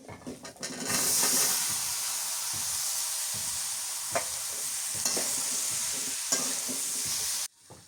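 Dried fish cooked with salt and chili, sizzling steadily in a hot pan while a spatula stirs and scrapes it in a few distinct strokes; close, continuous frying with no talking.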